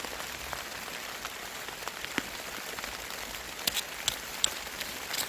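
Steady rain patters on a surface, with scattered drops tapping sharply above a dense hiss; no voices.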